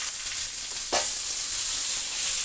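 Potatoes and vegetable stalks, added over cumin seeds, sizzle in hot oil in a pan, a constant close hiss with one brief scrape or stir near the start.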